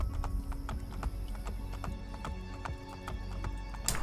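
Rhythmic horse hoofbeats clop steadily at a brisk trot in the video game Assassin's Creed: Brotherhood, close and fairly loud over a constant background hum.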